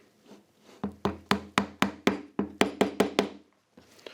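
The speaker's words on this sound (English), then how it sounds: "This is a kind of soft mallet." A soft mallet taps wooden dowels into a wooden toy frame, about a dozen muted, woody knocks in a steady rhythm, close and moderately loud, with softer rubbing before and after.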